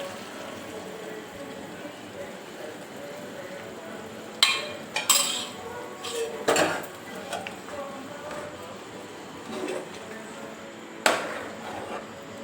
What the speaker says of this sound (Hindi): चलिए अभी हम मसालों को गोश्त के अंदर अच्छे से मिक्स करेंगे